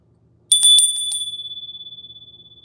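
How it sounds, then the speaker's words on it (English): A single bright ring of a small bicycle-style bell, struck in a quick burst of several dings and then left to ring out with a long, pulsing, slowly fading tone in an otherwise quiet room. "I'm going to ring the bell and clear the space."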